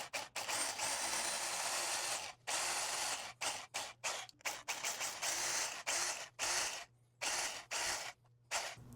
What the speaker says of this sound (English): Now we're gonna get the big ass hammer drill and make the holes.